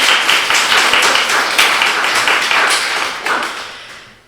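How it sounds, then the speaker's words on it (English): An audience at a charity Friends group AGM breaks into a sustained round of applause, dense and steady clapping filling the room for about four seconds before tapering off at the end. "Round of applause."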